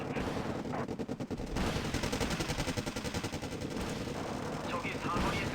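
Rockets firing in the strategy game Wargame: Red Dragon make a loud, continuous run of rapid, rattling bursts. The volley stays dense and steady throughout, with a brief lull near the start.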